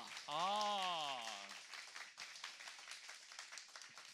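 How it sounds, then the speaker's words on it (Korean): Studio audience on a Korean talk show applauding to welcome a guest, a broad wash of clapping that rises right after a sung or spoken tone at the start and continues steadily to the end. "여러분 다시 한번 큰 박수로 맞이해 주시죠"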